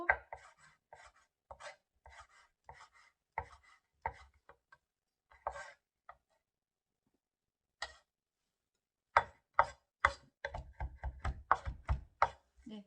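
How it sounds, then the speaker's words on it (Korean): A kitchen knife on a cutting board minces julienned vegetables for bibimbap in quick rhythmic bursts of crisp taps, pausing briefly, then resuming with a faster run of close, distinct chops. "채 썰고 이제 다시 다져요"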